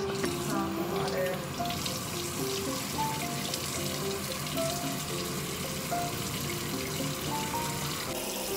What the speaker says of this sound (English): So get a hard sponge, some water.